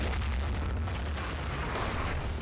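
Artillery barrages pounding the map in a Battlefield 2 Conquest league match, a dense continuous rumble of overlapping blasts with heavy low-end booms throughout, no clear gaps between impacts.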